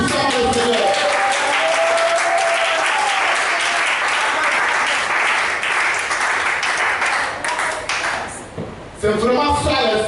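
A church congregation gives sustained loud applause that lasts about nine seconds, then fades out as a voice begins speaking.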